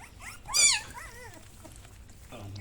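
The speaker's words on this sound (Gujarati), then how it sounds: "આઠ ગલુડિયા છે" A litter of nine small puppies inside a temple, giving high, wavering whimpers and yelps close to the microphone, loudest in a short squeal early on, followed by softer whines.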